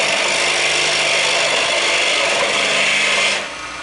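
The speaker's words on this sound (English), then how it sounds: "Then we're going to go back with a detail gouge and proceed to turn this corner over on the top of that heart." A detail gouge cuts steadily against spinning wood on a lathe while shaping a heart-shaped wooden wine glass, giving a loud, close, continuous hiss that drops off abruptly near the end.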